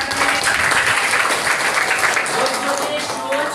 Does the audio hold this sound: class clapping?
yes